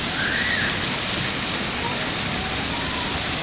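Water pours steadily at a children's water play area in Kodimatha, Kottayam, a continuous broadband rush like a small waterfall, fairly loud and unbroken throughout.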